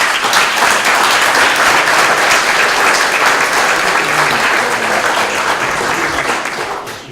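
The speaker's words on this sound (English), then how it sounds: "So if we can give them a little quick round of applause." Audience at a school board meeting giving a round of applause, a dense steady burst of many hands clapping that holds loud for several seconds before tapering off at the end.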